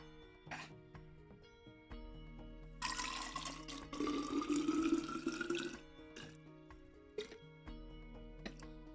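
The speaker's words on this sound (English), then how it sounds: "Pour myself some more water. Might hear some water pouring ASMR." Water pours into a drinking glass in one continuous stream lasting a few seconds, its pitch rising as the glass fills. It plays over quiet background game music and nobody speaks.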